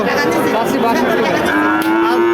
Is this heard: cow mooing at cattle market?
yes